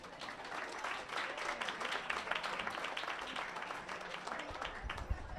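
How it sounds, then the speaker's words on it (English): An audience claps steadily for storyteller Richard Finkelstein at a Stories by the Fire event, a dense, even wash of applause from many hands that holds throughout with no one speaking. "Let's give Richard a round of applause"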